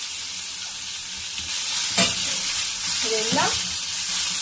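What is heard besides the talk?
coconut and tomato frying in butter for chicken sukka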